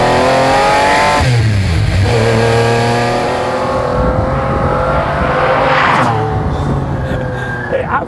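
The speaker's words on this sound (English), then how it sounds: "627 brake horsepower from that 6-litre V12 behind me, the all-aluminium double overhead cam, 4 valves per cylinder" A McLaren F1's 6-litre naturally aspirated all-aluminium BMW V12 revs hard and close, a loud sustained howl with rising and falling pitch sweeps as the throttle blips, and a voice heard alongside.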